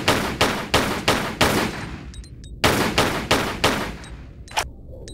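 Pistol gunshots from Lara in a Tomb Raider custom level, fired in two bursts of about five sharp, evenly spaced shots, each with a short decaying tail, separated by a brief pause with faint clicks.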